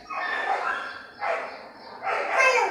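Dogs bark and yip while play-biting each other, three bursts of barking spread through the moment, fairly close and loud, with brief pauses between them.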